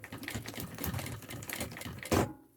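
A sewing machine runs in quick bursts of stitching as piping is sewn onto a thermal backpack, the needle chattering rapidly and close before it stops abruptly.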